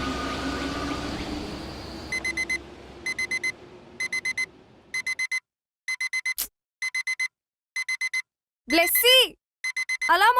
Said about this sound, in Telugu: అలారం ఆఫ్ చేయి ప్లీజ్.